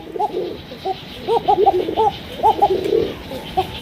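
Old native-breed Golla pigeons, including tiger-coloured Raj Golla, cooing in repeated soft rounded phrases close by, with a low background hum and no speech.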